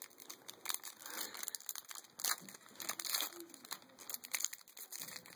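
Foil booster pack wrappers for trading cards crinkle and tear open in close, continuous rustling bursts, with a faint voice in the background.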